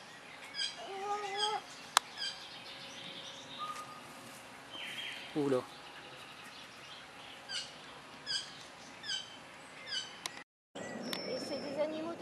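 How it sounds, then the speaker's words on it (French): Parrots perched high overhead at a bird park in Cheptainville, France give short, intermittent chirping calls at moderate distance, mixed with people talking and ambient outdoor noise. "Regarde les perroquets là-haut."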